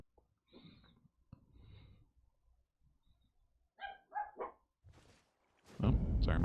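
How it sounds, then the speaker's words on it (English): Pet dogs bark in the background: a few short, muffled barks and snorts, then a louder, closer burst of barking at the end. "my dogs are barking a little bit"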